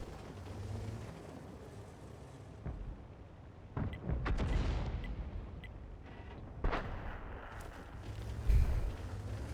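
Tank cannon fire in World of Tanks, a few deep booming shots spread across a low rumbling battlefield ambience, loud and without voices.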